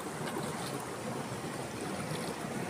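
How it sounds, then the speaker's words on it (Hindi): Ducks bathing and splashing in warm tubewell water beside farm fields, heard as a steady, dense wash of splashing and running water close by, with no talk. "बतखें भाई साहब अभी पानी में नहाने आ गई हैं"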